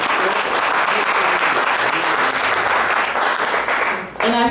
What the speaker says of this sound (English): clap for our young people